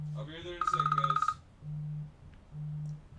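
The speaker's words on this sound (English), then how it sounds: "That's my phone." Mobile phone ringing during a live sports card breaks stream, a short bright electronic ringtone burst of rapid pulses amid a low repeating hum, with a person briefly speaking just before it.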